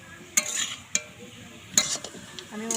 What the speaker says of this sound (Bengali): আমি উনানে শাকটা ভাজা করছি